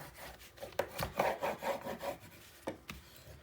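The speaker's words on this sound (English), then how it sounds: "Next, we're going to burnish everything. We want the air out, the tape secured against the chipboard." A burnishing tool rubbed over tape on chipboard while building a mini album, a soft close scraping and rubbing in uneven strokes with a few sharper taps, quiet and alone.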